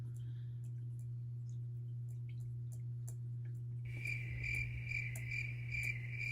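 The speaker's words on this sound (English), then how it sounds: "Crickets." Crickets chirp steadily over a low constant hum, with a quieter rhythmic pulsing at first and then a louder, clearer run of repeated chirps.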